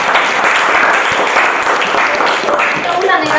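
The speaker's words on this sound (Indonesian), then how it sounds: "Tepuk tangan dulu." A classroom of students applauds together in a steady, dense patter of clapping that runs throughout, with a teacher's voice heard over it.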